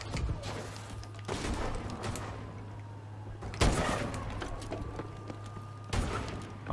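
Gunfire in a first-person shooter game, a few distant muffled shots spaced seconds apart over a steady low hum and busy background noise.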